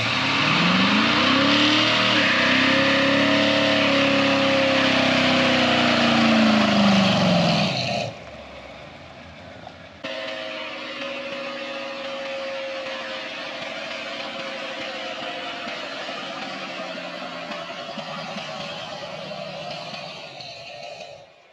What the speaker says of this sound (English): do a smoky burnout and test on it